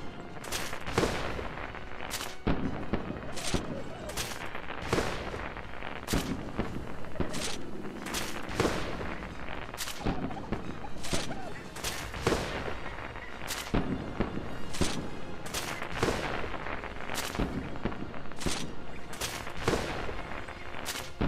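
Fireworks fired from a grenade launcher in the video game ARK Survival Evolved: a long rapid series of sharp bangs and bursts, loud and close, running continuously without talk.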